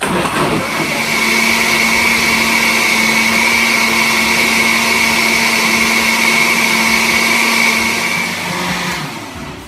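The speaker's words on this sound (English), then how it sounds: "Now that it has finished blending" A blender whirs loudly and continuously as it purees hot leek soup, a steady motor drone with a high whine that holds for nearly the whole stretch before winding down at the end.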